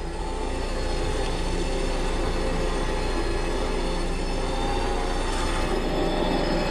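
A 10,000-pound rated winch pulls a Jeep in an off-road recovery, a steady loud mechanical drone with a constant grinding whine and no talk.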